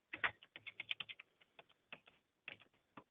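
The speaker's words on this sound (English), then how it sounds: "You would type in that number." Quiet, irregular clicks of a computer keyboard as a number is typed in, short bursts of keystrokes with brief pauses between them.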